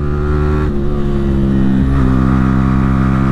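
A Yamaha R15 V3 motorcycle with an aftermarket ARacer engine computer and quickshifter revs hard and close, its loud engine note dropping and climbing as it shifts down and blips the throttle on a mountain road.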